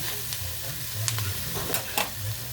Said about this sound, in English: we're getting a nice brown sear on that.